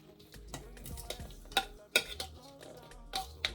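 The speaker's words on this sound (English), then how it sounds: "So we're just going to add the shrimp and the salmon to the pot." Shrimp and salmon tumbling into a pot on medium heat for Jamaican jerk pasta, with repeated clanks and scrapes of a utensil against the pot over a soft low rumble, no talking.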